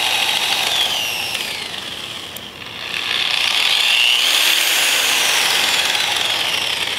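Bauer surface conditioning power tool sanding a piece of wood clamped to a bench, a loud continuous high whirring that briefly dips in speed, then ramps back up and holds steady.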